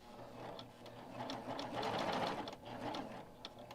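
A Baby Lock serger stitches through fabric in a fast, even mechanical whir, moderately close, rising and easing in short bursts as the material feeds.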